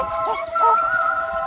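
Chickens on a homestead cluck and call close by, a short, steady run of fowl sounds with a faint crow-like tone held over a low background murmur.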